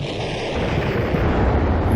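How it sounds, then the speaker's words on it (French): A huge explosion rumbles in amid a thunderstorm, a broad low roar that swells steadily and stays loud, thick with deep booming energy throughout, no voices over it. "une énorme explosion"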